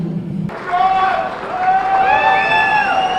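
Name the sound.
crowd cheering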